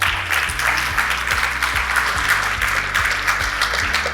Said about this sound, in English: So I would suggest you give all yourselves a round of applause.